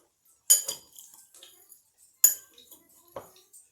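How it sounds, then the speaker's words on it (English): A metal spoon clinks against a dish while scooping panko crumbs onto potato cakes, giving a few sharp, close taps and scrapes spaced apart with quiet between. "Let me grab a spoon. Help me put my panko crumbs up on top."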